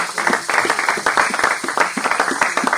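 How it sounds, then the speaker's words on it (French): A church congregation claps during a worship service, a short burst of rhythmic, fairly close hand claps with a roughly regular beat and no voices over it. "Ces applaudissements sont très très faibles"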